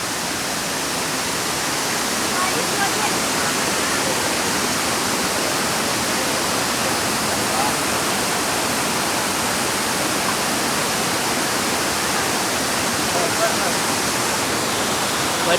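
Koshmal waterfall in Dang roars as a loud, dense, unbroken rush of falling water that fills the whole scene, with no pauses.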